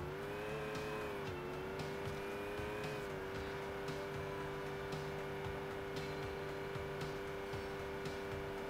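An out-of-control car in Saints Row 2 drones with a sustained engine tone that shifts pitch as it slides, with tire noise underneath, all at a faint, steady level.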